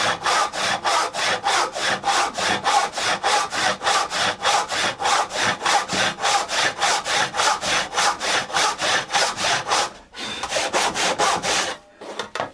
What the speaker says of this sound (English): just letting the saw do the work, it's going to guide that line, or that kerf will guide the saw